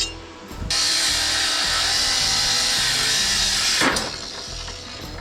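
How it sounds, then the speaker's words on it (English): Angle grinder or power saw cutting through a weld on a steel safari roof rack being built for a 1969 Jeep CJ5, a loud steady continuous whine running nearly the whole time before tapering off. "So we're gonna cut that weld and have to move it over."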